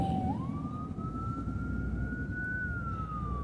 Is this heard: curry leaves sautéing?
no